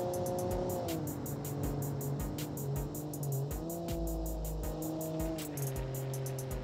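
SUV engine from a BeamNG video game droning steadily on a gravel circuit, with rising and falling revs as an automatic gearbox shifts, continuous and close with no talk.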